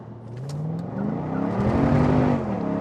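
A Mercedes SLK55 AMG accelerates hard with traction control off, its engine note climbing steadily through the revs over about three seconds, loud and close, with no talk over it.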